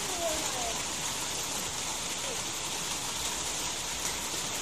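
Steady rain falls throughout, a broad constant hiss of drops with no breaks, fairly close and even in level, while a child tries on a raincoat.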